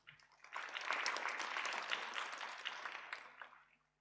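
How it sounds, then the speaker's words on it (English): A conference audience applauds speakers with dense clapping that swells in, holds steady for a few seconds, then fades out, with no talking over it. "So please give them a big round of applause."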